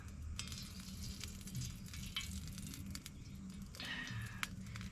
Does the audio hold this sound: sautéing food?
yes